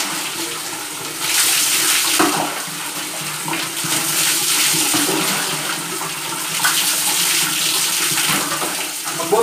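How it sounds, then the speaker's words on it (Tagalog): Water poured over a head of hair to rinse out shampoo, a steady splashing and running stream that goes on for several seconds, close and fairly loud, with no talking. "Bubuhos ka lang ng tubig pagka sumawala yung shampoo."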